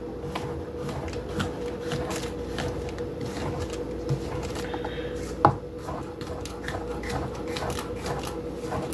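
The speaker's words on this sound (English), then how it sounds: "Let's cut this one in half, it's so big, and then slice it" A knife cuts a large brown mushroom in half and then slices it on a board, making a quick run of sharp, close taps and knocks.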